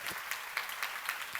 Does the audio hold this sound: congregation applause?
yes